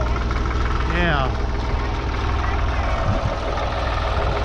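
A backhoe engine idles steadily nearby with a low, continuous rumble, while a voice briefly speaks over it, just before the machine starts digging up a garden.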